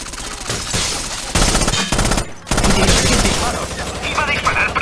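Gunfire in an animated show, a loud rapid volley of shots running nearly throughout, with a brief pause midway, mixed with action effects and voices speaking.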